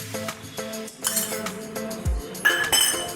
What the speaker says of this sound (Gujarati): હલાવી નાખવાનું, જેથી ફરતા બધો હવે એકદમ સરસ ચડી જાય।